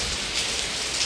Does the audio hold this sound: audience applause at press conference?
no